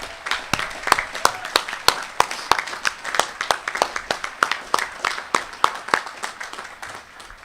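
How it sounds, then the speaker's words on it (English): Scattered, sparse clapping from a small audience at a Gerstell Academy commencement ceremony, with distinct individual claps in an irregular rhythm over a quiet room. "Can we please have a round of applause for them?"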